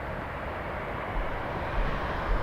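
A WestJet Boeing 737-800 airliner lands at Toronto Pearson Airport, its distant steady jet engine roar a broad, low rumble that swells slightly, with no voices.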